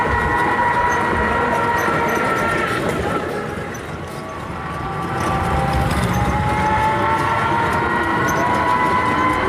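Train at a railway station, a loud continuous rumble with steady tonal whine and rail noise that dips briefly midway and then returns, close and dominant throughout.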